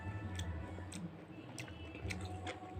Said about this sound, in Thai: จะมีเสียงตักหน่อยนะครับผมต้องขอโทษด้วยนะครับจะมีเสียงตักหน่อยครับ